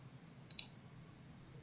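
A single faint, sharp mouse click on an OK button in design software, isolated against quiet room tone.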